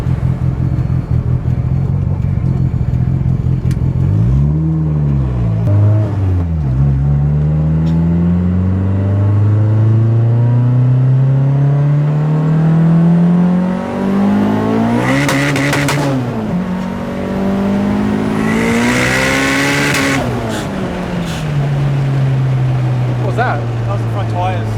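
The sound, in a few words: Nissan coilovers on Toyota Starlet driving, front tyres scrubbing under braking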